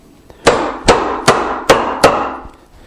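A mallet strikes a chisel five times at an even pace, chopping and squaring the ends of a mortise in wood for a hand-built side table; each blow is a sharp, close, ringing knock, with no talking.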